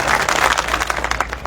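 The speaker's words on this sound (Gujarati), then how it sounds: "એમને તાળીઓના ગડગડાટથી વધાવ્યું." A crowd at a farmers' dialogue rally of AAP politicians applauds to welcome speaker Gopal Italia, giving a loud, dense clapping that carries steadily throughout.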